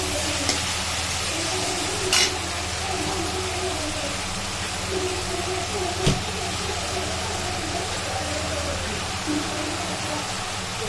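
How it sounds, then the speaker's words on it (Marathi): Green chilies frying in hot oil give a continuous, fairly loud sizzle with a couple of brief crackles, and no voices are heard. "त्याच्यासाठी कधी पण हिरवी मिरची तेलामध्येच फ्राय करायची"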